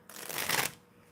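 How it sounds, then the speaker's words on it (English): A deck of playing cards is riffle shuffled once, a short, close, crisp fluttering burst that runs about half a second. "I promise I am riffle shuffling."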